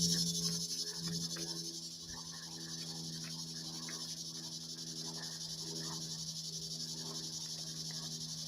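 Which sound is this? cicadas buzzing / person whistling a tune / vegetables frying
cicadas buzzing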